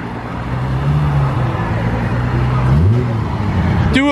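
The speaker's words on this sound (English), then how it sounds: "We got a rowdy Supra. Come on out, Bubba" A Toyota Supra rolls out of a car show with a steady engine note that dips and then climbs as it accelerates, loud and close, with a sharp burst near the end.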